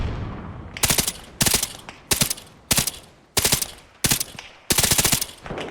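Automatic gunfire in the military shooter game Arma Reforger, seven sharp rapid bursts spaced roughly evenly over several seconds, loud and close with brief gaps between, no talk.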